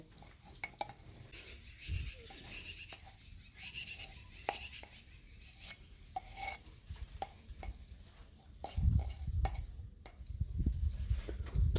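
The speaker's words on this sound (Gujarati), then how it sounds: "હવે દહીં આપણે ગ્લાસની ફરતી આપણે એમાં સોટાડી દેવાનું છે" A spoon scrapes and clinks softly against the inside of a glass while yogurt is smeared around its walls, giving faint irregular taps and rubbing sounds with low-pitched thumps here and there; no voices.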